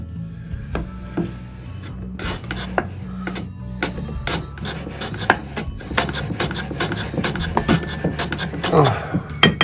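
Wooden hand plane shaving larch, a harder wood than fir, in repeated rasping strokes with scattered knocks of wood, close and moderately loud.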